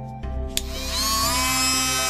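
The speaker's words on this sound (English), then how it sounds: "So we're going to use that using my Dremel type tool." A handheld Dremel-type variable-speed rotary tool with an 8mm shank whines steadily after a brief start-up, a continuous close, fairly loud high-pitched drone with no talking.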